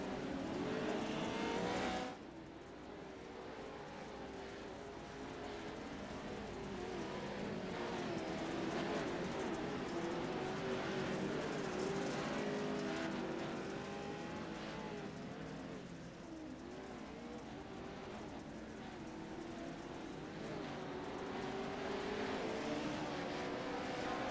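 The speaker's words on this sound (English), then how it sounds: "Looks like pace car's going, so we'll do the parade lap." Race cars idle and roll at low revs on a parade lap behind a pace car in an AMX club race, a steady multi-engine drone holding throughout with gentle swells as they move off.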